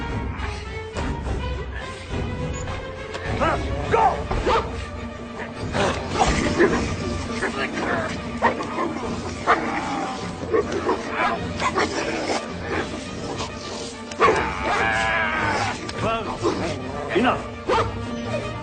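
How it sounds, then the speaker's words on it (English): Dog barking in an action-adventure film scene, several sharp barks and yips scattered through tense dialogue and mechanical clatter, close and fairly loud amid voices. "Your fucking dog can't even follow command."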